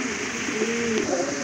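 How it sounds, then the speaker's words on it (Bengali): A domestic desi pigeon coos nearby in a short, soft, rolling call over low background noise where pigeons are being sold. "এটা হচ্ছে আপনার দেশি কবুতর।"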